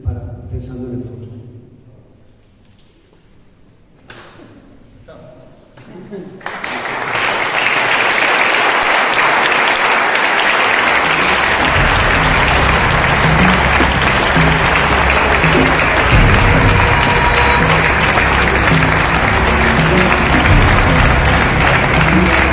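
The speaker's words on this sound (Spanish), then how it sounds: "Vamos a hacer un aplauso" Loud, sustained audience applause at a talk on migration, starting after a few seconds of quieter sound and continuing steadily as a dense wash of clapping for the rest of the clip.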